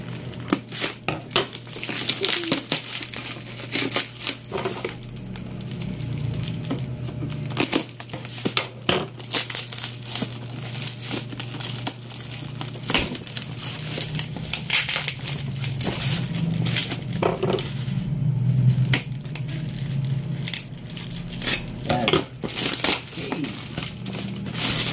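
Packaging for a TP-Link EAP110 outdoor antenna is crinkled, torn and handled in a long series of close, sharp plastic and cardboard rustles and crackles, with a person talking occasionally in between.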